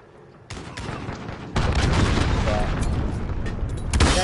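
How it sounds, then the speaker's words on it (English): An enemy cruise missile explodes in a Call of Duty game, a sudden heavy blast rising into a sustained roar of rumbling debris and crackle, loud and close, with a further burst at the end. "Enemy cruise missile incoming."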